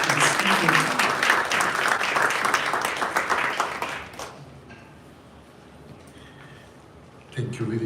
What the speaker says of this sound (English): Let's all give Father Seb a warm round of applause, please.